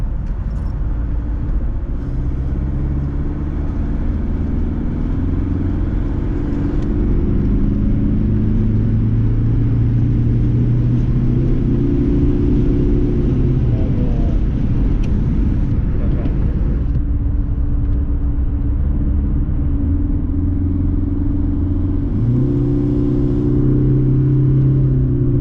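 Mercedes W203 C220 CDI diesel engine idling steadily after a boost leak repair, a continuous low rumble with shifting tonal hum, close and loud throughout, with no talk over it.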